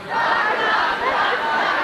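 A high school gym crowd shouts "yeah" together in one loud, sustained collective yell lasting under two seconds.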